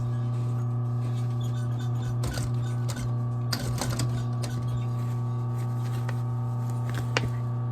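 Sewing machine stitching the bottom of a Prada bag lining, a steady motor hum with faint mechanical ticking and a few louder needle bursts, close and continuous without talk.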